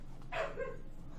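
One short, faint dog bark or yip sounds alone, a brief sharp burst over quiet background.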